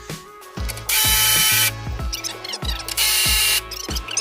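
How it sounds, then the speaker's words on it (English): Ratchet or power tool tightening shock mount bolts on a Honda FL250 Odyssey, heard as repeated clicking bursts with two long, loud high-pitched runs, close and alone. "we tightened those down right there, and we tightened those down there"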